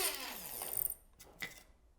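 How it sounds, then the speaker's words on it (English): Small blade coffee grinder pulverising freeze-dried mango into powder, a close, steady whirring buzz for about a second, then a couple of brief clicks and taps as it stops, alone without talk. "I'm just going to grind the freeze-dried mango in there."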